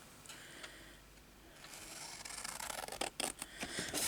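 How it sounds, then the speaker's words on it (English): Scissors cutting paper for a journal bellyband, quiet rustling at first, then close, sharp snips and crisp paper scraping in quick bursts near the end, with no talking. "so I'll cut this out here"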